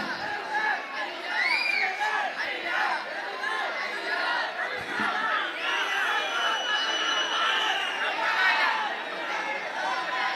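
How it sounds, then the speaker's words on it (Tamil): A large crowd at a political party conference rally keeps up a continuous loud clamor of overlapping shouting and chatter. A voice speaks over the noisy mass throughout. "எதுக்கு கூச்சல் போடுறீங்க"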